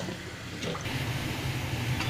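Tap water runs steadily while raw meat is washed by hand in a home kitchen, a close, continuous splashing gush with no talk.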